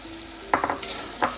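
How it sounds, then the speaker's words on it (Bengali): Fried potatoes stirred and sautéed in a pan for a Bengali dhokar dalna with moong dal: a few short scraping strokes of the spatula in close succession, then a pause and one more stroke. The oil sizzles softly underneath, and no one speaks. "ভাজা আলুটা দিয়ে কিছুক্ষণ একটু কষিয়ে নেব"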